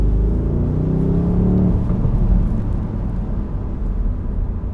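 BMW M850i convertible (8 Series Cabriolet) accelerating hard, a loud continuous low engine rumble with a rising rev note early on, then a steady strong drone throughout.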